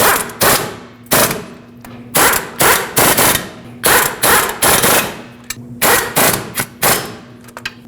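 Ball joint bolts on a 2005-2021 Nissan Frontier 2WD being snugged down with a power tool in about ten loud, rapid rattling bursts separated by short pauses, close up.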